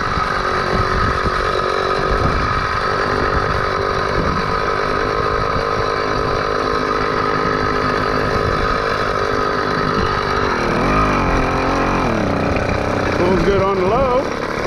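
A motorized bicycle engine with a speed carburetor idles steadily and close by, a dense rattling drone with small rises in pitch near the end and a voice speaking over it.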